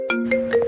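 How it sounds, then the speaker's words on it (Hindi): A phone ringtone rings alone at moderate loudness, a short electronic melody of repeated bright tonal notes over a steady sustained tone. "किसका फोन है?"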